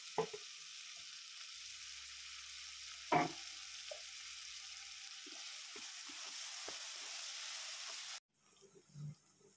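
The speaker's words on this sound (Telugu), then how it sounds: "ఇందులో పసుపు వేస్తున్నాను, అల్లం వెల్లిగడ్డ పేస్ట్ అండి. టమాటోస్ మగ్గడానికి టైం పడుతుంది కాబట్టి నేను టమాటోస్ కూడా వేసేస్తున్నాను" Tomatoes, turmeric and ginger-garlic paste fry in a pan for a soya granules curry, a steady faint sizzle with a few stirring clinks, then the frying stops abruptly near the end.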